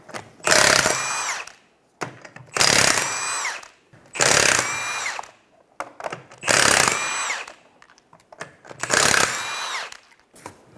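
Five bursts of a pneumatic impact wrench zip off the 21mm lug nuts on a rear wheel of a 2007-2012 Nissan Altima, each loud, close whirring rattle lasting about a second with short pauses between.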